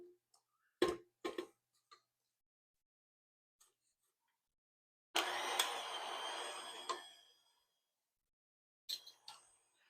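An electric mixer creams Spekulatius cookie dough on low speed in a short whirring burst of about two seconds, surrounded by scattered clicks and knocks in an otherwise quiet kitchen.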